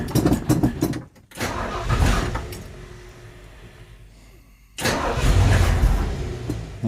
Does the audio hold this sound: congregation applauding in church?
no